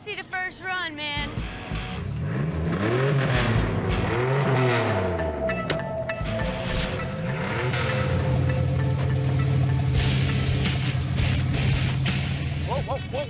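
A modified minivan drives on its first run, its engine revving and roaring loudly with tire noise as it moves off, while people talk over it.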